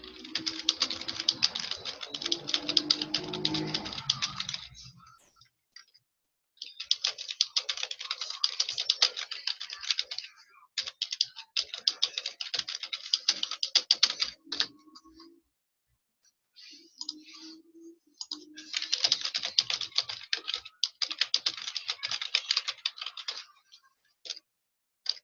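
Someone types on a computer keyboard during an online A1 conversation class, with bursts of quick, light key clicks that stop for short pauses and no talk over them.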